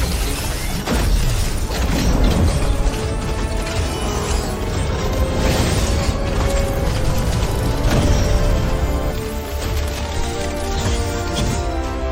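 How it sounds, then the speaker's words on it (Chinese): A mecha armor suit powers up with a sustained, loud mechanical grinding and clanking, ratchet-like creaks and a few heavy booms layered over a constant dense rumble. "机甲着装卡启动"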